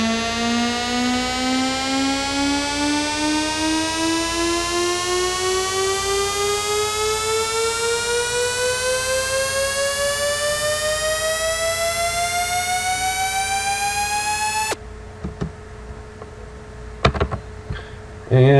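Synth riser built in Native Instruments Massive with an automated pitch bend: a bright, buzzy tone sweeps steadily upward in pitch for about fifteen seconds, loud and alone, then cuts off into brief faint clicks.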